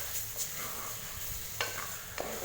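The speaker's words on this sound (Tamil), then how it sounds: "குடல் கறியை சேர்த்துட்டு இதை நல்லா மிக்ஸ் பண்ணி விடுங்க" Goat intestine curry being mixed with masala in a hot pan over high flame: quiet sizzling and frying under a few distinct scraping stir strokes of a spoon, with no talking.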